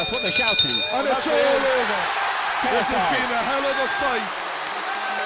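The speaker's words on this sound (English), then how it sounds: "And the crowd erupts." Boxing arena crowd at the end of a six-round Logan Paul vs KSI fight, a broad sustained roar and cheering under continuous excited commentary, dropping slightly near the end.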